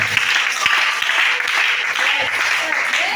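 A church congregation at a Sunday service in Libreville, Gabon, applauding steadily, a dense continuous wash of clapping from a large crowd with no break.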